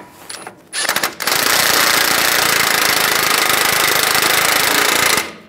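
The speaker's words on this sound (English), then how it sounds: "Now we're going to tighten the axle nut." An impact wrench tightens the axle nut on a 1998-2010 Volkswagen Beetle during a front wheel bearing and hub replacement, with a couple of short bursts followed by a loud, steady hammering rattle lasting about four seconds.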